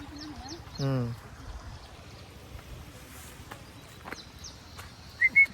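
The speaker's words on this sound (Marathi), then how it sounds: "तर शेतावर आपण पोहोचलो आता पक्ष्यांचा आवाज बघा" Birds calling around a village farm field: a few short chirps and a rising harmonic call at moderate distance, with brief high notes near the end, over a low outdoor background.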